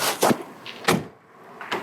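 Doors of a 1964 Oldsmobile Jetstar 1 with a 394 V8 open and shut in quick succession, several sharp close latch clunks and thuds in a quiet interior.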